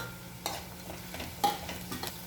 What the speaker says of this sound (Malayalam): ഇതിലേക്ക് ഒരു 2 പച്ചമുളക് ഇങ്ങനെ ചെറുതായിട്ട് കട്ട് ചെയ്തത് അതിട്ട് കൊടുക്കാം.